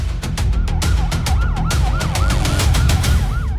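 A loud, close siren wails in rapid rising and falling sweeps over the heavy rumble of an engine.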